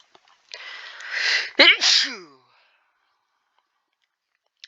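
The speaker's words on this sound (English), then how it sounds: "Now I'm sneezing." One loud, close sneeze with a sharp inhale before it, followed by silence.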